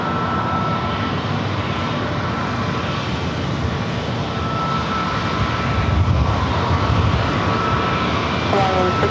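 A Hawaiian Airlines A321neo jet departs San Diego airport for Honolulu, a broad, steady engine roar that holds throughout and swells slightly toward the end, heard from a distance.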